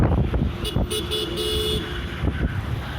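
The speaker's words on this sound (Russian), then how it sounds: "машины ездят, о, гололед" Cars driving along an icy, snowy winter street in Yakutsk, a steady road rumble with a couple of short horn-like toots partway through, heard from the roadside with no talking.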